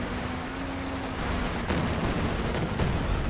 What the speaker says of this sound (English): And there's another left barrage coming in as well.